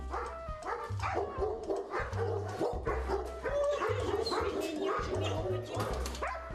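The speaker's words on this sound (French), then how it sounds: "Des chiens jouent" Several dogs bark, yip and whimper in a busy animal shelter while they play, the calls repeating in bursts over people talking nearby.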